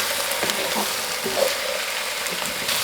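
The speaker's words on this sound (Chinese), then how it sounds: "翻炒均匀" Potato chunks, diced carrot, diced shiitake mushroom and blanched green peas being stir-fried together: a steady, close sizzle with occasional scraping stirs, and no voices.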